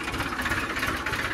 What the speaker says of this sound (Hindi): अब ट्रैक्टर पे है तुम्हारा भाई फार्म ट्रैक 60 पे भाई